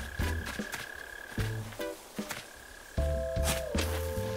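A mole cricket calls from underground with a steady, high continuous trill that runs faint and unbroken beneath nearby scraping, footsteps and rustling from someone searching and digging for it.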